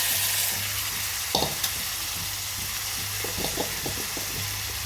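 Boiled cauliflower tumbling into a hot, spiced pan: a constant loud sizzle with a few soft knocks and scrapes of stirring.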